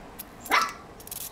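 A single sharp dog bark rings out close and loud, followed by faint background noise.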